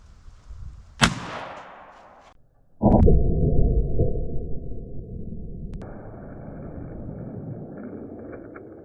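An AEA Element Max .50 caliber air rifle fires a 238 grain deep hollow point slug into ballistics gel: one sharp, loud report decays, then a second heavy burst of noise rumbles and fades into a lingering hiss.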